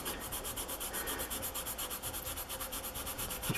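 A cloth rubs back and forth across the contacts of an NES game cartridge, a steady rapid scrubbing rhythm, close and fairly quiet, with no talking.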